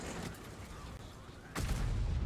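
Muffled, distant tank cannon blasts in a video game, with a sharp, heavy boom near the end, over a low rumbling game background.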